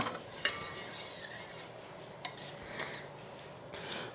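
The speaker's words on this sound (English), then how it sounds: "Scrape that all down." A spatula scrapes egg tart mixture of beaten eggs down the sides of a mixing bowl in faint, soft rubbing strokes, with a couple of light clinks against the bowl and no voices.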